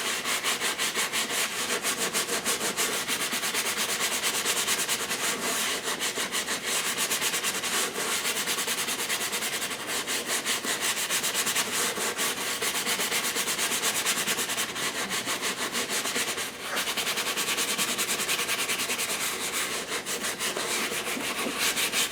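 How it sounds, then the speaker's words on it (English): Steady close scrubbing on very dirty leather treated with degreaser, a continuous brushy rasping with rapid back-and-forth strokes that runs unbroken for about twenty seconds. "I'm going to come in here and scrub."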